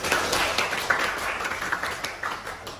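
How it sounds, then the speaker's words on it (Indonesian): An audience claps in an Indonesian polytechnic teaching session, a steady patter of many hands at moderate volume with no talk over it. "Tepuk tangan kita semua."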